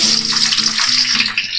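Chopped onions tip into hot oil in a pan while cooking a cucumber palya, producing a loud, continuous hissing sizzle, close and steady throughout.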